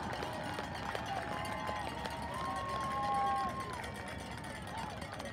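Stadium crowd at a high school senior night football game cheers and claps for senior football players and cheerleaders, a steady distant roar with a brief swell, and a tonal whistle or horn sounds in the middle.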